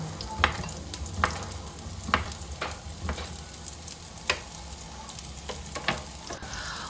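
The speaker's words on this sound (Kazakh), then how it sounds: "Қуырылып жатқан пиязымызбен екеуін қосып, жақсылап қуырамыз қызарғанша." Soft, steady sizzling of sliced sausage and onion frying, punctuated by irregular scraping and clinking as a utensil stirs the pan.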